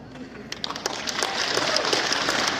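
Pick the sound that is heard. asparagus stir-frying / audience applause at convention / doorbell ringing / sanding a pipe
audience applause at convention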